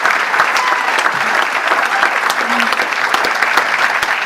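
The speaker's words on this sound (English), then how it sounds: "if I could have a round of applause for all that they do" Loud, sustained applause from the audience at a police awards luncheon, a thick wash of many hands clapping at once that holds steady throughout, with no speech over it.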